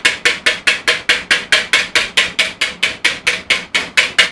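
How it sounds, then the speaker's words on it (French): A hand whisk beats sugar in a bowl, making a steady, fast, evenly spaced series of sharp strokes, about four or five per second, close up and alone. "Je vais essayer de monter ça au fouet."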